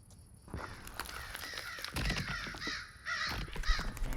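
Several crows cawing in The Oval Portrait gamebook game, harsh repeated caws overlapping in quick succession, close and fairly loud over a faint background.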